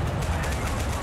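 Gunfire in a tank-battle video game, a dense burst of loud booming shots lasting about a second.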